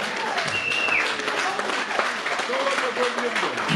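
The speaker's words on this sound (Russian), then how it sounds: "давайте аплодисментами поздравим Дауда" Applause among friends at a birthday gathering, a dense patter of clapping mixed with overlapping voices and a few whistles or shouts, fairly close and steady.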